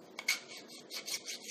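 A metal file rasps across the end of a tube held in a clamp, flattening it before flaring, giving a handful of quick, close, scratchy strokes in an uneven rhythm.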